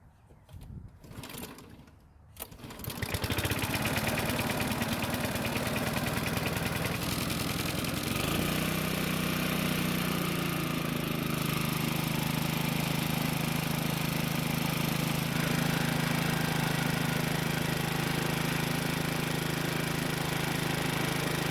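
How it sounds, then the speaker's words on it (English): A walk-behind lawn mower's small engine is pulled and catches, first a couple of rough cranking pulls, then a loud steady running drone that settles into an even idle for the rest of the clip. "the engine started on the second pull and that it was running great"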